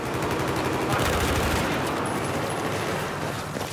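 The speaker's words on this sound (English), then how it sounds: "put it back, fire the gun" Rapid bursts of F2000 rifle fire in the Battlefield 4 video game, dense automatic gunfire rattling for a few seconds before trailing off, with no talking.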